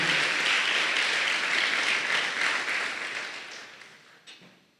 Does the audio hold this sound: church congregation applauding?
yes